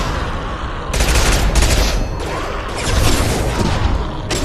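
Gunfire in the video game Mass Effect 2: loud, dense automatic bursts in several rapid volleys, close and harsh, with mechanical clatter between them and no talk.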